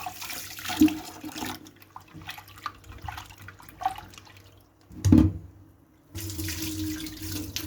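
Tap water runs into a sink while a curtain is rinsed and washed by hand, a steady splashing stream with brief louder surges and a short pause before the flow resumes.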